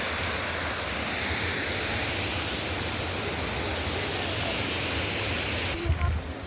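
Kanthampara waterfall in Wayanad roars as a dense, unbroken rush of falling water, loud and close, holding steady before a brief bump and slight drop at the very end.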